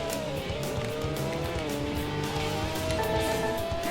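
A motorcycle revving and accelerating in Moto Racer 2, a steady buzzing engine note climbing in pitch with stacked harmonics, loud and continuous across the few seconds, no talk.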